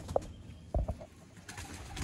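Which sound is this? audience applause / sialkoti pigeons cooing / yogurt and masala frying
sialkoti pigeons cooing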